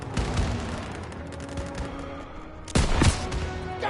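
Gunfire in Call of Duty WW2 during a courtyard battle: dense, continuous fusillades of rifle and machine-gun shots, loud and near, with a heavier burst of booming blasts near the end.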